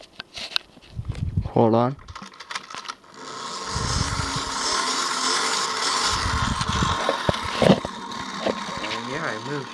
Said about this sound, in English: what you do is you wind that up